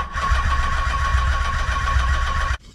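The engine of a Nissan 300ZX project car runs with a steady, loud mid-pitched drone and a whining tone, then cuts off abruptly near the end, leaving near silence.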